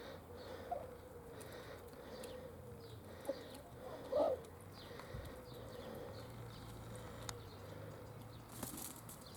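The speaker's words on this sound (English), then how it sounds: "these are chickens that I've been feeding for years now" Backyard chickens, roosters and a hen, give faint, sparse clucks and a brief flutter of wings at a distance over a low, quiet background.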